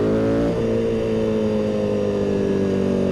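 KTM Duke 990 motorcycle accelerating hard in second gear on a straight, the engine a loud, close, continuous throaty drone that shifts pitch briefly near the start and then holds steady, with no talk.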